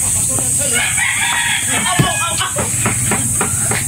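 Chickens clucking and crowing nearby over a steady hiss, with a person's voice making short repeated calling sounds among them.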